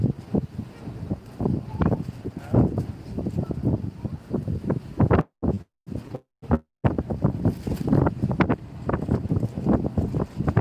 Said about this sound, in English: The wind is freshening up something savage now.